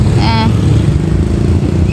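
A Kawasaki ZX1100 motorcycle that sat unused for two years is being brought back to life, its engine running in a loud, close, steady rumble with a brief whining tone early on.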